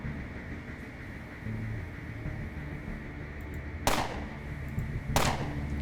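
Two sharp gunshots ring out over a steady hum of background ambience in the game Underrail, spaced about a second apart.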